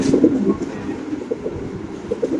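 Soft, repeated coos of Bokhara pigeons murmur steadily against a constant low background hum, with no talking.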